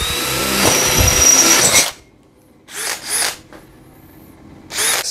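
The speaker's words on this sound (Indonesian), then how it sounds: "Speed 2, mode drilling 10 mili." A DeWalt DCD805 cordless hammer drill runs loud at speed 2 in drilling mode with a 10 mm bit, whirring steadily for about two seconds, then giving two shorter bursts and one final brief burst after pauses.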